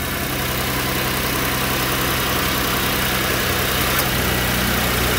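A Ford car engine idles steadily with its electric cooling fans running, giving a loud, constant whirring drone with no break and no one talking.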